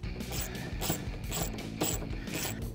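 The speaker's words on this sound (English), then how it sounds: "I am using a 12-inch 1/4-inch drive extension" A ratchet on a 12-inch, 1/4-inch drive extension loosens rear spoiler bolts on a 2015-2022 Mustang Fastback, giving a steady run of fast, close metallic clicks in short bursts with no talking.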